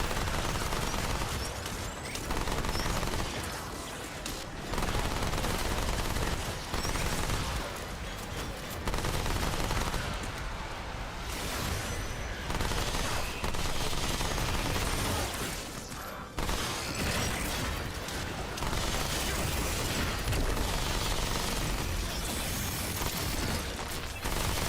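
SMG fire in Remnant 2, loud sustained automatic bursts hammering almost without pause, broken only by brief gaps between volleys.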